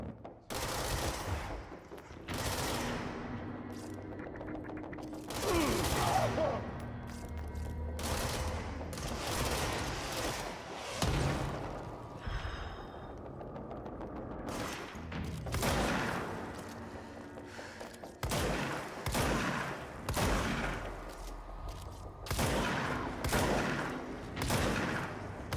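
Video game gunfire rattles in dense, rapid bursts and volleys, loud and close, broken by short pauses and pulsing on and off throughout a long stretch of combat.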